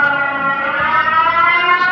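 Warning siren sounding during a strong typhoon, a loud sustained wailing tone with steady harmonics that holds for the whole stretch, with no talk over it.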